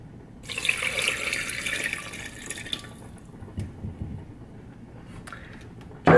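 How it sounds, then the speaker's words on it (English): Chicken cooking broth is poured into a blender in a home kitchen, a brief splashing gush of liquid for a couple of seconds, then quieter trickles and dribbles with a small clunk at the end. "Now I'm going to pour the chicken water in the blender."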